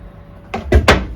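A boat's cabin door knocks and bumps shut in a cramped interior, with two or three close, loud wooden thuds in quick succession after a quiet moment.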